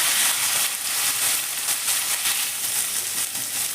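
Capsicum dropped into hot oil for a vegetarian chhana curry gives a steady, loud, hissing sizzle that runs continuously without pause, with no voices over it.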